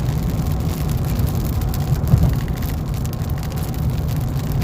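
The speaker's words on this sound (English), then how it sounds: "So it is raining here." Rain falls steadily on a car, a constant dense patter and low rumble from inside the vehicle with no talking.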